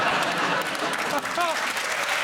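A studio audience at a comedy panel show gives a round of applause, a steady crowd clapping that runs throughout while a voice talks over it.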